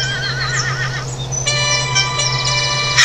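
A horse in a Thomas and Friends cartoon neighs and whinnies loudly, with a wavering high call and then a long sustained whinny, close and clear over a steady low hum, with no talk.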